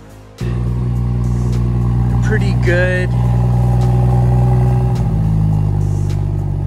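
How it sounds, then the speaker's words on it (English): A 2016 BMW 340i M-Sport engine with stock exhaust cranks and fires up, then settles into a steady, throaty idle; a person speaks briefly over the running engine. "So that's what the stock exhaust sounds like."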